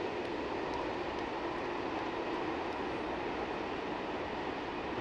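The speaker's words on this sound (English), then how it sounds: "As you can hear the local train in the background." A local train rumbles past near a cricket ground during a T10 match in Hungary, heard as a steady, even wash of rail noise that fills the whole stretch with no talk over it.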